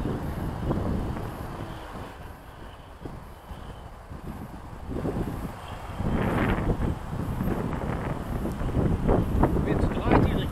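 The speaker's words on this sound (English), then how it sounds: "And we got wind." Wind gusts buffet the microphone at an RC plane flying field with a steady rushing roar that grows stronger in the second half, while a person talks intermittently.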